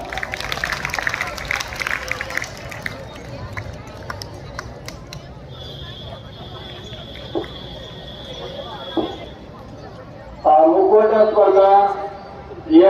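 Applause bursts from an audience at a school prize ceremony as students who succeeded in pottery, painting and mask-making come up for their prizes. The clapping is dense and fills the opening seconds, followed by a quieter stretch and then a voice speaking.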